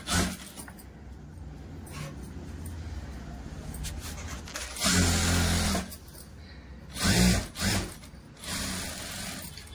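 Sewing machine stitching the lining of a blouse puff sleeve, a quiet whir broken by several louder bursts of running stitches between pauses.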